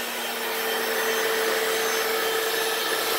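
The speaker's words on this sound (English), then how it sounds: "Looks like the vacuum missed that rock." A Hoover FloorMate hard floor cleaner runs close by on a garage floor with a steady, loud whirring drone that holds an even pitch throughout.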